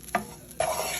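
Sausage browning in a pan, with two short bursts of stirring and a sizzle that swells and holds near the end, close and fairly quiet.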